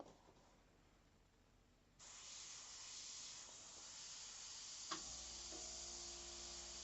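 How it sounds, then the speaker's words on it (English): Airbrush being test-sprayed after sitting unused for a while, a steady airy hiss of compressed air that jumps louder after two seconds and keeps running, with a small click near the five-second mark. "whenever you go ahead and use your airbrush that you haven't for a little bit, just go ahead and make sure you're getting good operation"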